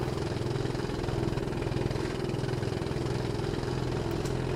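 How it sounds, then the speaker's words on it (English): A steady, buzzy engine drone from an old rental car in the racing game Automobilista 2, thin and rattly like a lawnmower, holds an even pitch throughout without pauses. "Definitely sounds like a lawnmower."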